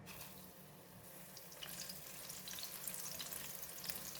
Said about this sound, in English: Add in all the shallots in the hot oil